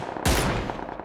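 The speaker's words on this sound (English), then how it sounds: "He's firing at someone." A single sharp gunshot burst in the PUBG video game, loud and close with a short rumbling tail, no talk.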